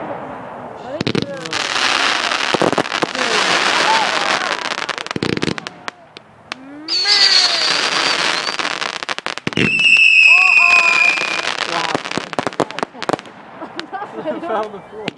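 Loud fireworks go off at a bonfire night display in Carey, a run of booming bursts with crackling and whistling trails and a few quiet gaps between volleys. Crowd chatter and voices are heard under the blasts.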